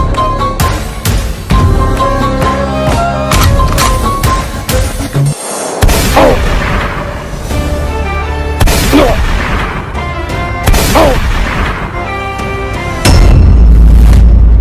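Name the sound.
explosion boom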